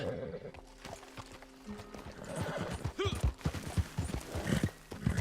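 Video game horse: rhythmic hoofbeats clop steadily while the horse whinnies once, a high wavering call, up close against a quiet background.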